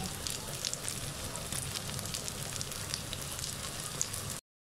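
Egg with okra fries in a pan, giving a continuous fine crackling sizzle with scattered small pops, close and steady until it cuts off abruptly.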